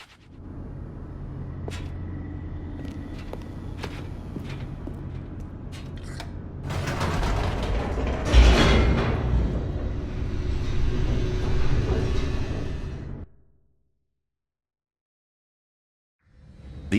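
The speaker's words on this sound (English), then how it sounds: "The elevator raced downward, plummeting towards an unknown fate." A descending elevator in The Stanley Parable video game, heard as a steady low mechanical rumble with faint creaks that swells louder midway, peaks in a brief heavy jolt, then cuts off into silence.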